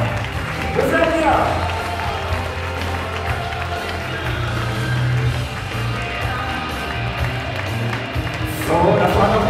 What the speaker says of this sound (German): Ganz kurz Applaus, Julia und Mascha